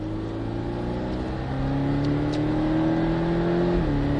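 Porsche 718 Cayman S engine on a race circuit, a steady loud drone whose pitch climbs gradually, jumps up, then drops briefly as if shifting gear, with no talking.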